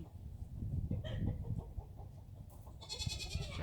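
A rooster in a chicken coop clucks and makes faint low sounds amid shuffling movement, ending with a brief, higher, strained call. The sounds are quiet and close.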